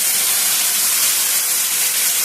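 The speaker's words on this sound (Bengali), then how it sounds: "এখন দিয়ে দিচ্ছি জলটা।" Water poured into a hot pan of vegetable curry with potatoes and beans sets off a loud, steady hiss and sizzle that fills the whole moment, close and continuous with no voices.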